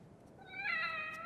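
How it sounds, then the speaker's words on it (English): A single short cat meow in The Evil Within, clear and close, rising then trailing off, with nothing else around it. "Just stand here and pet the cat a little bit."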